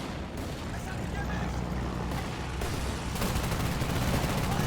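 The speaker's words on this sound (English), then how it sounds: "can you make it do like a strafing run with the 50s?" An aircraft makes a strafing run with .50 cal machine guns in the war game Men of War 2, producing sustained, dense rattling bursts of gunfire with booming impacts, loud and continuous. Players talk over the shooting.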